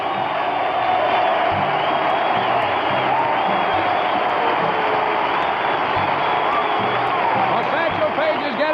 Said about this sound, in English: Getting a standing ovation